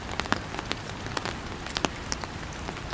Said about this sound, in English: It's a lot of rain, yeah.